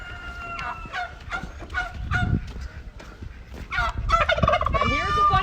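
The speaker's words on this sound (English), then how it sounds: "And here's a bunch of turkeys." A flock of turkeys on a farm gobbles in repeated rattling bursts, some calls overlapping, with louder gobbles crowding together toward the end and no talk over them.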